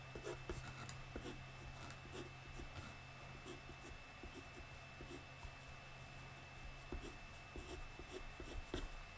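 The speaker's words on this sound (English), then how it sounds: "I'll go over that with the lead pencil" A lead pencil scratches and rubs across paper in short, repeated strokes, faint and close, with a steady low background hum and no talk.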